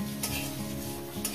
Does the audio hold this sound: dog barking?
no